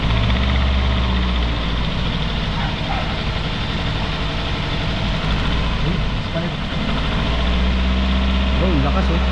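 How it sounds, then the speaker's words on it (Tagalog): A Toyota Altis engine idles roughly with a strong misfire, a loud, steady, uneven low rumble with vibration running throughout, and a voice talks over it. "Yan, lakas ng misfire."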